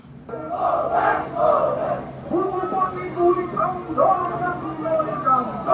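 Huge protest crowd in Dibrugarh, Assam, roaring and chanting in a continuous wave of many voices, loud and close, with shouted calls rising and falling throughout.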